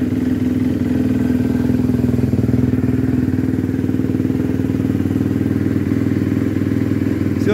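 A Suzuki RMZ 250 motorcycle engine idles steadily just after an oil change, a loud, close, even buzzing drone with fast regular firing pulses and no talk.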